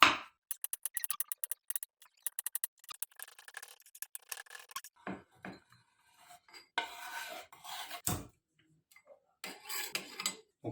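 A knife finely mincing lemongrass-dish ingredients on a cutting board, rapid runs of sharp chopping taps in quick bursts, close and crisp, broken by short pauses and a few louder knocks.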